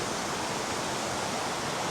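A cold river flows steadily, making a continuous broad rushing hiss of water with no breaks. It sounds close and fairly loud, with no voices over it.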